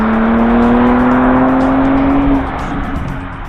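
A Porsche Panamera E-Hybrid Sport Turismo launching hard under launch control, its engine note loud and close with a rising whine that holds for about two seconds and then drops away as it pulls off.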